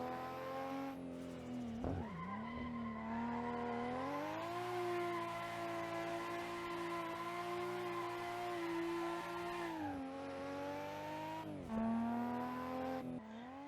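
A car drifts in the Assetto Corsa racing game using the handbrake, a loud sustained engine drone that dips and rises with revs and shifts, mixed with tire squeal as the rear slides through a corner.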